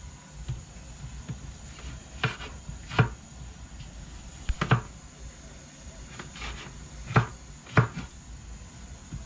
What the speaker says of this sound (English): You cut up the tomatoes